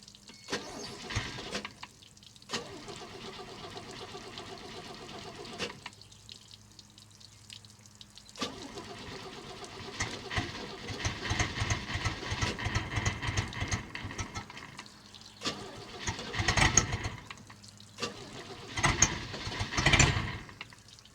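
A 1973 Cobalt boat's engine cranks and tries to start after raw gas is poured into the carburetor, with repeated bursts of cranking and sputtering and gaps of quiet between attempts.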